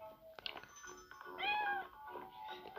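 Cartoon cats in the Toca Boca game meow in short bright bursts, several distinct mews in quick succession, clean and close with no talk.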